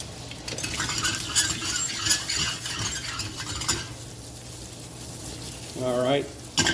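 A pan with browned onion is deglazed for shrimp scampi with zucchini, producing a strong hissing sizzle with stirring scrapes that settles to a softer fry, followed by a short bit of voice at the end.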